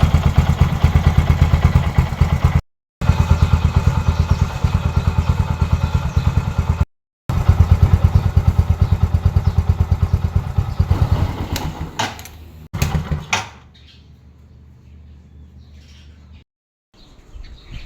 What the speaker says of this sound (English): Let it idle until the engine is warm enough.